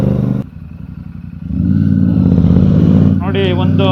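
A Royal Enfield Super Meteor 650 motorcycle being ridden on a road, its engine note rumbling steadily and loud, dipping briefly before building again with a clattering edge, and a voice breaking in near the end.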